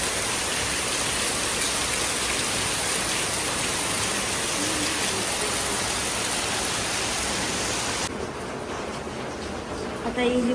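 Heavy rain pours steadily outside as a dense, even wash of noise that fills the whole clip, easing slightly near the end.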